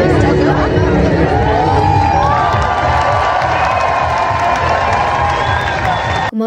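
At Mauerpark, a large outdoor crowd roars with cheers and shouts for a karaoke singer, loud and sustained with overlapping voices and whistles throughout before cutting off abruptly.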